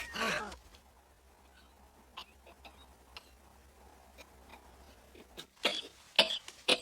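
Faint coughs break the quiet, one at the start and a short cluster near the end, with soft ticks and rustles between.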